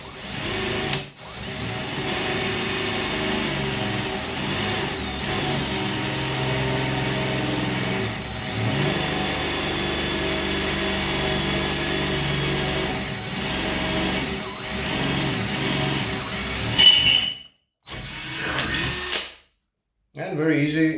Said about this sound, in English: And very easy drilling with a 8mm drilling bit for metal.